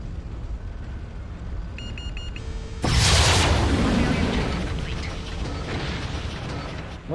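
A sudden heavy explosive boom hits a mech in the Mechwarrior 3 video game as turret fire lands, leaving a loud rumbling roar that slowly decays over constant mechanical background noise.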